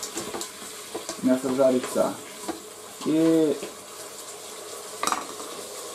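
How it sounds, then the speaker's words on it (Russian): Duck meat frying for a rice-and-duck pilaf in a multicooker gives a steady, soft sizzle, broken by a few metallic clinks and brief spoken words from a person nearby. "где-то пусть 15 минут там мясо жарится"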